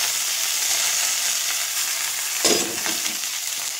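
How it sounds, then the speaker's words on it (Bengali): Coriander leaves and garlic frying in a pan, a close steady sizzle with a brief stirring burst partway through. "দেখুন, রসুনগুলো মোটামুটি লাল হয়ে গেছে। এইবার এর মধ্যে আমি ধনে পাতাগুলো দিয়ে দেবো।"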